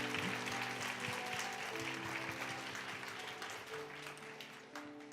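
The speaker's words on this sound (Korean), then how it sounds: "오늘 하나님께 영광 박수 올립니다." A church congregation applauds during a Sunday worship service, sustained dense clapping from many hands that fades slightly toward the end, with sustained tones underneath.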